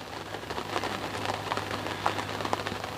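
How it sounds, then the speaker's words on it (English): Steady rain falls on a lake during a carp fishing session, a constant soft hiss and patter with scattered louder drops landing nearby and no talking. "I mean, it's raining."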